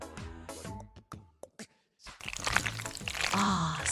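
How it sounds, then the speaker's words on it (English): In a cartoon pizza-making game, chili sauce is squirted into a pan and stirred, with a few short splashy drips followed by a sustained sloshing, stirring liquid sound, close and moderately loud. "Similarly, add some chili sauce and stir it well."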